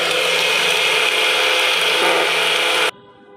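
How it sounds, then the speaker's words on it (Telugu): A mixer grinder blends avocado juice, its steady loud motor whine running without a break for about three seconds before cutting off abruptly into a faint hum. "ఇప్పుడు మనం మిక్సీ జార్లో అయితే వేసుకుందాం"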